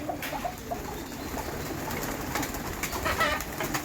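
Several pigeons in a loft coo softly and repeatedly close by, their low throaty calls overlapping against a faint rustling background.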